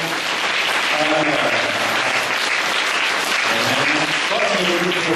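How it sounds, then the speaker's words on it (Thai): A school audience applauds the teachers with dense, continuous clapping throughout, while a voice is faintly heard talking underneath at moments. "ปรบมือให้คุณครูหน่อย"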